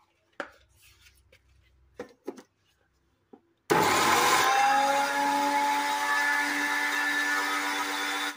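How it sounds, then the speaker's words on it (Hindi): A kitchen mixer grinder loaded with garlic and coriander for chutney starts up after a few faint clinks and handling noises. It then roars loudly and steadily for nearly five seconds, close and with no voice over it. "मैं चटनी को अब ग्राइंड कर रही हूँ।"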